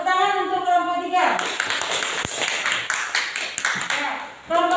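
Brief round of clapping from a classroom of students applauding group 3 after a presentation, sharp uneven claps starting after a teacher's voice and trailing off as speech resumes near the end.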